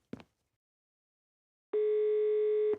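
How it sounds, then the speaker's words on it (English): Telephone dial tone in the Agatha Christie Murder on the Orient Express PC game, a steady electronic tone lasting about a second after a brief click of the handset being lifted. "All I need is one more phone call to the lab."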